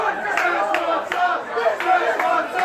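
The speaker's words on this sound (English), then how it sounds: "Customers crowd the counter demanding the Szechuan dipping sauce for their McNuggets." A dense crowd of customers packs a McDonald's counter over Szechuan sauce, with overlapping shouting, chattering voices and sharp cries rising and falling in chaotic bursts.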